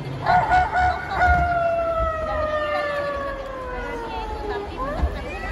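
Children's voices imitate a rooster crowing in a long drawn-out cock-a-doodle-doo, a sustained descending call lasting several seconds, loud and close, with a brief second crow near the end.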